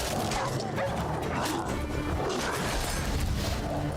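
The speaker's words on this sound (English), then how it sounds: "I forgot how annoying dogs are in this game" Dogs in The Witcher 3 bark and yelp in quick bursts during combat, layered over crashes and hits in a loud, dense game soundscape with little pause.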